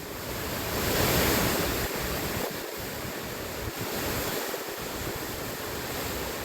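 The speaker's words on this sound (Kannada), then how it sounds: "ನೋಡಿ ಅದನ್ನ ಎಷ್ಟು ರಭಸವಾಗಿ ಹರಿದು ಬರ್ತಾ ಇದೆ ನೀರು." Floodwater released from a dam on the Krishna river rushes past in a loud, steady roar of turbulent water, with broadband wash and some wind buffeting throughout, no voices.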